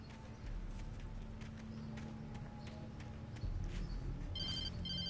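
A telephone rings in the video game Alan Wake Remastered. Short, bright electronic trills sound near the end of the clip over a low ambient hum and faint footstep-like knocks.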